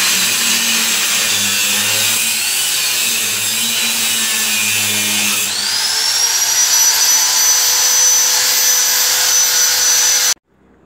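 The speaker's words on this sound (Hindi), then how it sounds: "वो इस एंगल को एक एक इंच कट कर रहे हैं।" A power tool cuts steel angle iron into one-inch pieces for window welding work at a village home, a loud continuous high whine that shifts pitch midway and stops abruptly at the end.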